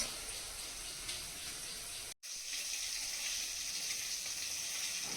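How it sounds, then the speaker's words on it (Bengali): Tilapia fish frying in oil in a pan, a steady hiss and sizzle with bright crackle, briefly cut to silence before resuming at an even, moderate level with no talk. "এই যে মাছ ভাজা বসিয়েছি"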